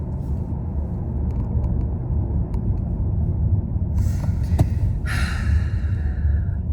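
A car's steady low engine and road rumble runs throughout from inside the cabin, with a few faint clicks and a brief higher whine near the end.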